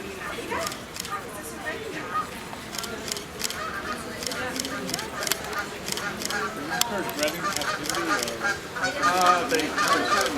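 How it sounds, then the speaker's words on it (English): Canada geese honking overhead at an outdoor migration celebration event, repeated honks spread through the clip beneath people talking nearby. "Hearing some Canada geese overhead."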